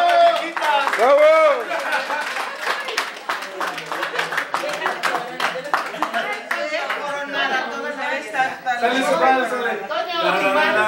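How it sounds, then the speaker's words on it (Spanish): Party guests at a 63rd birthday celebration clap in scattered, brisk applause for the birthday woman, mixed with chatter and cheering voices nearby. "Un aplauso para la chiquita."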